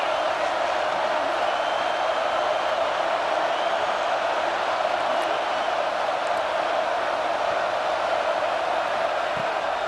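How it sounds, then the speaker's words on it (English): Huge stadium crowd of Texas A&M Aggies football fans roaring in a dense, continuous wall of cheering noise that holds steady and loud throughout. "These fans are going absolutely nuts."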